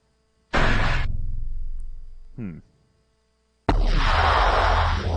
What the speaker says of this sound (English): It's like an explosion. That's like a literal explosion.